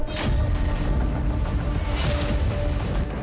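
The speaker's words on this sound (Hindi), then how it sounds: "एक के बाद एक ये धमाके कीव में हो रहे हैं।" Deep, rumbling explosions in Kyiv roll continuously with crackling noise, a louder blast near the start and another around two seconds in.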